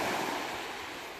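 Waves of the Irish Sea at Bray wash in a steady broadband surf with some wind noise on the microphone, fairly faint and continuous, with no voices.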